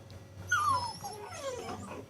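Ten-week-old puppies rescued by deputies and firefighters after possible fentanyl exposure whimper and whine in thin, high, sliding cries that rise and fall, fairly close over faint background hum.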